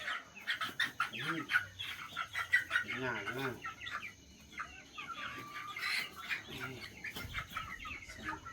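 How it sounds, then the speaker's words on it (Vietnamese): Plump chickens, newly bought for raising on a farm, cluck and chatter close by while a person speaks over them. "Gà này béo thật."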